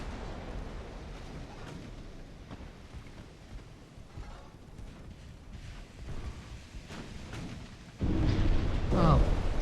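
A torpedo strikes a warship in a 1932 cruiser battle in Ultimate Admiral: Dreadnoughts; naval gunfire rumbles at a distance throughout, then a sudden loud, heavy impact blast erupts near the end and holds as a sustained roar.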